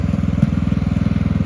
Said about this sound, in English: I'm starting to get sick of listening to that lawnmower.